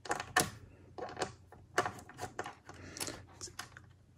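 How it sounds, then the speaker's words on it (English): Small screws being removed from an iMac Late 2012 21.5-inch A1418 drive bracket with a T10 screwdriver, giving a series of quiet, close metallic clicks and scrapes in irregular bursts. "So I'm going to pull off these four screws which hold these brackets"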